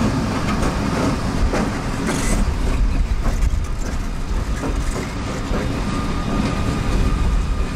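A long freight train of nearly 10,000 feet, half loaded cars and half empties, rumbles past close by in Lakeland, Florida, a loud continuous roar with rhythmic clicking of wheels over rail joints throughout.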